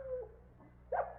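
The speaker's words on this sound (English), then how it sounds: "The dog again." A dog gives a short, faint whimper followed by a louder brief whine, quiet and close, over a low hum.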